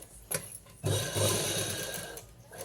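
A sewing machine stitches a blouse with computer and loom work, its fast mechanical whir starting after a brief pause and running steadily, close and moderately loud.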